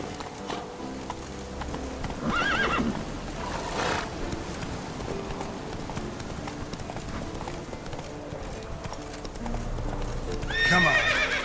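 A horse in Witcher 3 gallops with rapid, steady hoofbeats, whinnying loudly early on and again near the end, the rider urging it along between calls.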